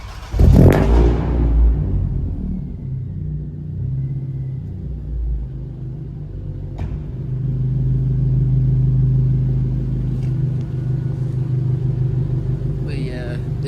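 Scion tC running with no catalytic converter, a sharp opening rev settling into a deep, loud exhaust rumble that swells again mid-clip, heard up close.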